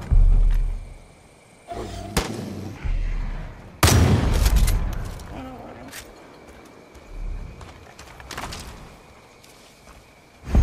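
Gunfire aimed at vultures in the Far Cry 5 video game: a few loud sharp shots and bursts scattered across the clip, with game ambience, footsteps and thuds between them.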